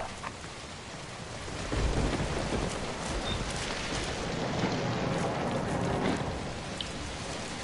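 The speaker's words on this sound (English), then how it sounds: "Fuck the rain. The rain makes this 10 times worse." Heavy rain and thunder in the video game Zombi: a dense, constant downpour with a deep roll of thunder swelling around the middle and lingering, loud and enveloping.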